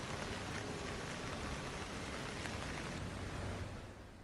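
Heavy monsoon downpour in the Konkan region, a steady dense hiss of rain that stays loud and unbroken throughout and eases slightly at the end, with no voices.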